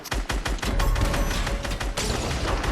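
Rapid bursts of video game gunfire crackle almost continuously, loud and close, with booming low thuds underneath and no talking.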